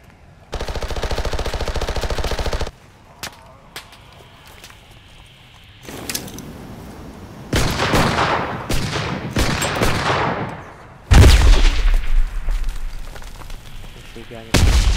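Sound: gunfire in the video game Cuisine Royale (CRSED F.O.A.D.)

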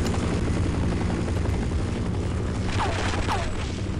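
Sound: helicopter in the video game Half-Life

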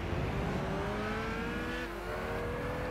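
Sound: race car engine in Gran Turismo 6 video game

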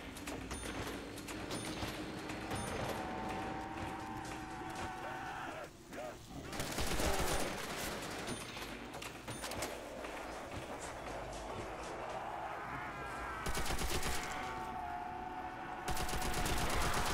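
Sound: gunfire from a gun in a zombie video game

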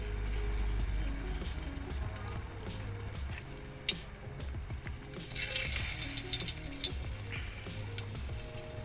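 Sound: banana fritters frying in hot oil

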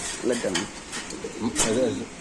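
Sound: checker pied racing pigeons cooing

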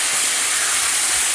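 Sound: sauce sizzling as it is added to hot stir-fry pan

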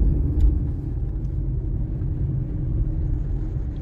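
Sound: freeway traffic

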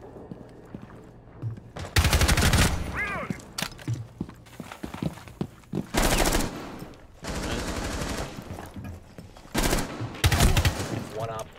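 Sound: grenade and gunfire in a video game

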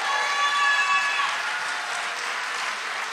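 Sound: congregation clapping and cheering in church

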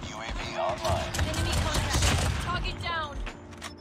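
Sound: Kilo Bolt rifle gunshots in video game Call of Duty Mobile

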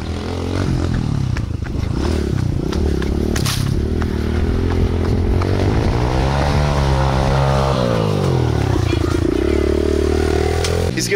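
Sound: dirt bike engine while riding a 360 wheelie

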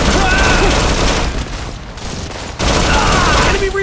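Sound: gunfire in Modern Combat 4 video game

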